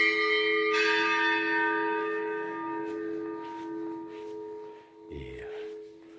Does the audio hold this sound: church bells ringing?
yes